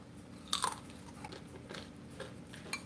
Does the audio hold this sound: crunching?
yes